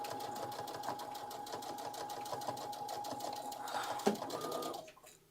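A sewing machine runs steadily for about four seconds, stitching together a couple of dress pieces, then slows and stops near the end.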